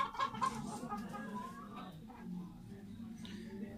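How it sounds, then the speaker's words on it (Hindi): Desi chickens and roosters cluck softly in a coop near a building site with scattered materials, a steady low murmur of fowl with brief higher calls, and a voice speaking faintly beneath. "और ये आ गए जी मुर्गे।"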